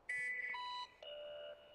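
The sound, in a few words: alarm signalling the Nerd Alert segment of a Prison Architect video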